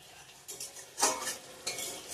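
A spatula stirs a masala of chili, coriander and other ground spices in a pan for rohu fish kalia, producing short scraping strokes over a soft sizzle, close and fairly quiet with no talking.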